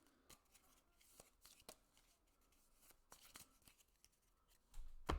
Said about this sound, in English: Shuffle it into the deck. Give me a minute. I got to reshuffle this.